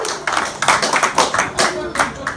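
Comedy club audience applauding and cheering in dense, bursting waves across the whole moment, fairly loud and close, with voices shouting over the clapping.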